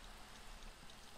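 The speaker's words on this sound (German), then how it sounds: "Na, fängt doch noch an zu regnen hier." Steady rain pattering in the video game Minecraft, a soft, even hiss of drops falling throughout at low volume, with no voices over it.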